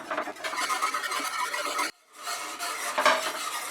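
Milk and flour are being stirred steadily in a pan to make white sauce for pasta. A utensil scrapes continuously against the pan with a soft sizzle, close up, broken by a short silent gap before the stirring resumes.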